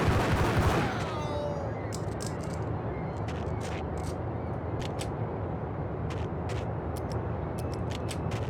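Beretta pistol gunfire in the 2001 PC game Max Payne: a string of crisp, fairly faint shots cracks at irregular intervals over a steady low ambient rumble.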